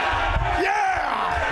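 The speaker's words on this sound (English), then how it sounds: "the cheering in the background's interesting" Crowd cheering and yelling in the background, a steady loud roar of many voices with a few rising shouts across a brief stretch.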